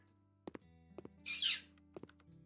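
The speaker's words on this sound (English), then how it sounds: "You be quiet out there, bird." A bird calls in the House Flipper video game, one soft breathy hoot rising between a few faint footstep-like clicks in a quiet indoor scene.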